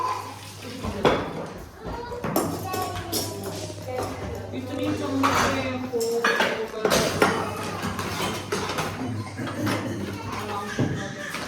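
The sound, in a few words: glass dishes being arranged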